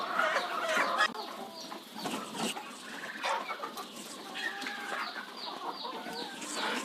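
Kadaknath chickens on a poultry farm keep up a busy, overlapping chorus of clucks and short calls, some brooding hens among them, close and fairly loud throughout with no talk.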